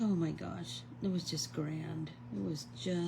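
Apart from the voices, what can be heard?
No everyday noises stand out.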